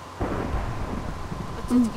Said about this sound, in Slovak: Hromy, blesky, plamene.